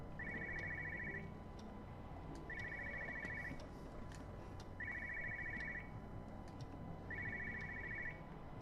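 A telephone rings four times in evenly spaced double-trill bursts over a soft ambient background in the video game Everybody's Gone to the Rapture, with no talking.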